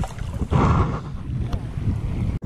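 Strong wind gusts buffet the microphone on a small boat at sea near an island, with rough wave and water noise. The roar stays loud and steady throughout.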